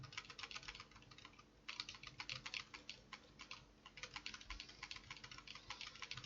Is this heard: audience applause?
no